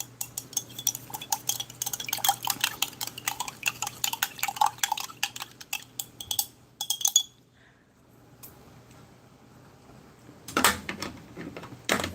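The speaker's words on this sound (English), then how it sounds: "I think I'm going to give this thing another stir." A spoon stirring a US MRE ration meal, Menu 5 Chicken Substitute, in its pouch, with close rapid scraping and clinking strokes, a pause, then a brief final rustle.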